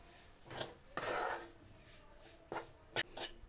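A spoon scrapes and knocks in a pan while wheat flour is roasted in ghee, giving a few separate metallic scrapes and clinks with quiet gaps between them.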